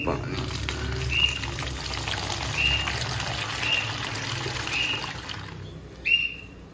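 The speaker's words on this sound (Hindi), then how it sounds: "पानी देखिए, इनको पानी की प्यास लगी हुई थी, ये पानी रख दिए।" Water is poured into a dogs' drinking bowl outdoors, a steady rushing splash lasting several seconds before trailing off, with a few faint chirps above it.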